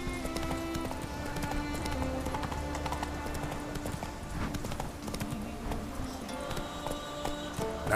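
Hoofbeats of the horse Roach galloping in the video game The Witcher 3: Wild Hunt, a fast, steady clip-clop rhythm close by over a low game ambience, with no talk.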